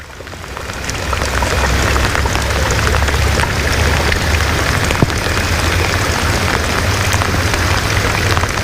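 Steady rain falls on a cloudy, wet day by a trout river, a dense, even hiss with soft pattering drops that holds at the same level throughout, with no voices.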